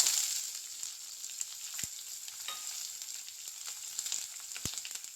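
Onion going into hot oil already crackling with mustard seeds, urad dal and dried chillies for a murungai keerai (drumstick leaf) poriyal, giving a steady soft sizzle with a couple of sharp pops, fairly faint and without voices.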